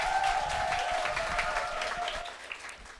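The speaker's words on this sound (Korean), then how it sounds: "다시 한번 뜨거운 박수를 보내주시오." A convention hall audience gives warm applause, a soft, even wash of many hands clapping at a distance, gently fading over a few seconds.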